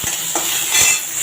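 Masala sautéing in oil in a kadai with mustard seeds and curry leaves, a soft sizzle under a few light scrapes and clinks of a stirring spoon over a brief moment, no talking.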